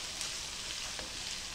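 Flour cooks with a meat filling in a pan, giving a quiet, steady hiss of sizzling with no breaks or voices.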